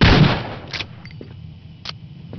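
A single sharp sniper rifle shot in a mobile shooter game, loud at the start and decaying quickly, followed by a few faint clicks and small interface sounds.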